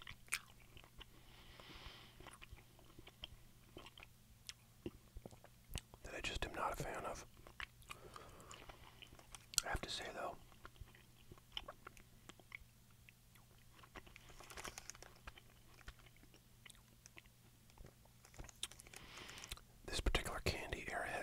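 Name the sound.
chewing Airheads watermelon candy, whispered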